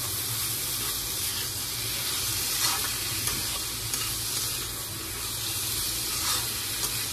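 Chicken fries in a pan with dry red chillies, bay leaf, cumin, garam masala and onion, giving a loud, steady sizzle that runs without a break, with occasional stirring scrapes over it and no voices.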